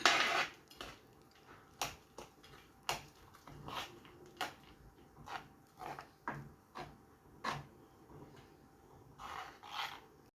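A spoon stirring crushed peanuts and cashews in a bowl, a close series of rhythmic scrapes and light knocks repeating roughly every half second, with no voices.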